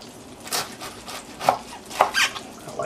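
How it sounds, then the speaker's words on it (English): Knife slicing cabbage into thin strips on a cutting board, several crisp crunching cuts at an uneven pace, close and clear with no talk. "slice up the cabbage"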